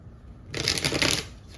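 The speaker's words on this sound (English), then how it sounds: "The cards don't want to mesh together." A quick riffle shuffle of a tarot card deck, a close, crisp burst of rapidly flapping cards lasting under a second before stopping, with no speech.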